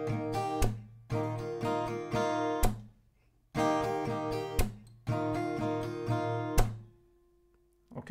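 Acoustic guitar strumming a slow down-up pattern for a song, with a sharp percussive clap on the strings in each bar, close and clear, in short phrases separated by brief pauses.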